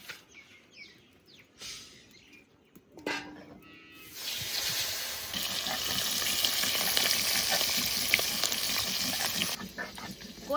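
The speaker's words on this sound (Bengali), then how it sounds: "তেল গরম হয়ে গেছে এবার মাছ দিয়ে দেবো" Koi fish hit hot oil in a village kitchen, first a few quiet clatters and a burst of spattering, then a loud, continuous crackling sizzle that holds steady before cutting off near the end; no voices.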